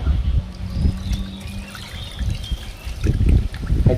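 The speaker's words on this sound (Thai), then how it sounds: "เอาน้ำดองที่เราวางจนเย็นแล้วมาราด" Cooled soy pickling liquid poured over salmon pieces in a container, a close, gurgling trickle and splash that comes and goes in bursts, with some low handling noise.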